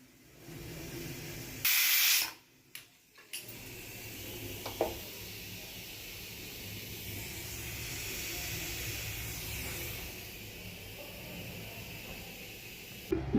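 A pressure cooker on the stove lets out a sharp, loud burst of steam for about a second, followed by steady hissing and a few metallic knocks.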